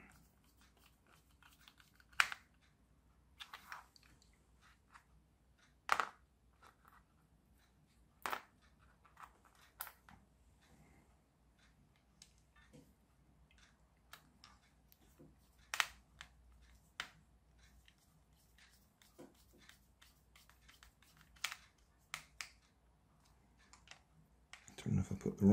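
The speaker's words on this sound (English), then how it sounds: "I was just putting the screws back in." Small screws go back into the gearbox of a 1985 Nikko Toyota Hilux RC car, giving sparse, sharp clicks and taps spaced several seconds apart, close and quiet, with a voice speaking softly in places.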